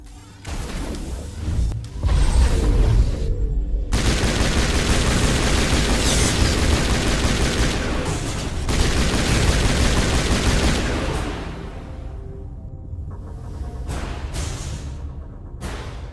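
Sustained heavy gunfire from a Mass Effect firefight, loud and dense with overlapping bursts and crashes for most of the stretch, easing to lighter scattered shots toward the end; no talking.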